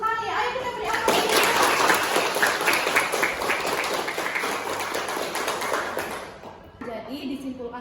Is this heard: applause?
yes